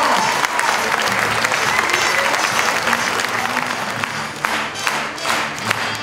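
A crowd applauds and cheers to welcome a singer at the 2015 Téléthon launch in Clairefontaine, loud continuous clapping with shouts that thins into scattered claps toward the end.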